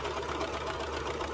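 A sewing machine runs steadily, stitching the middle seam of a racerback hoodie with a continuous, even mechanical whir and no talking.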